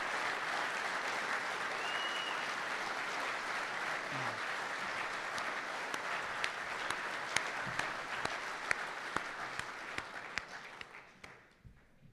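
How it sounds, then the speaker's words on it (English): Sustained audience applause at a LIUNA AIC 2025 recognition ceremony honoring training staff, a dense steady wash of many hands clapping that holds loud for about ten seconds, with individual claps popping out before it thins and fades at the end. "please stand and take some applause because it's well earned."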